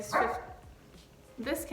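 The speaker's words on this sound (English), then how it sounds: "you're gonna hear my dog in the background because she wants to play" A pet dog barks playfully in the background in short close bursts at the start and end, mixed with a person talking indoors.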